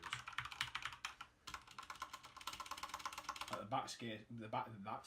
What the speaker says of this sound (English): the backspace key sounds a hell of a lot better